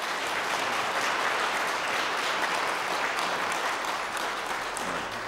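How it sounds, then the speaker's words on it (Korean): Steady, full applause from a church congregation during a Sunday service, continuous and even throughout, with no voices standing out. "여러분들 환영의 박수 부탁드리겠습니다."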